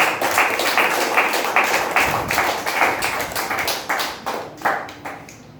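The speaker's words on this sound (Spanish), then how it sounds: "Dele fuerte ese aplauso al Señor." A church congregation claps together in a steady, even beat of sharp hand claps. The clapping is loud and fairly close, with almost no voices over it.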